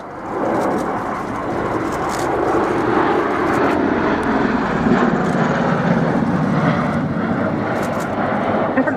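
A CV-22B Osprey tiltrotor flies at the Royal International Air Tattoo 2015, a loud, continuous engine and rotor drone that swells slightly as it passes, with announcer speech layered underneath.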